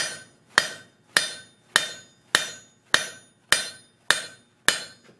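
Hammer striking hot metal on an anvil while forging bevels into a sculpture base, nine evenly spaced sharp ringing blows at a steady rhythm, close and loud with short decays between.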